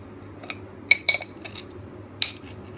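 A spoon clinks and scrapes against a bowl while cream and sugar are mixed into bananas, a few sharp taps spaced out over soft handling noise.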